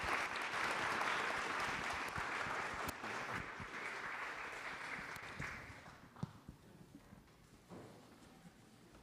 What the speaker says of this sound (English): If you could give a round of applause, please.